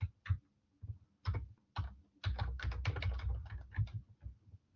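Someone types on a computer keyboard in quick, uneven bursts of clicking keystrokes, close and fairly quiet, with short pauses between runs of keys.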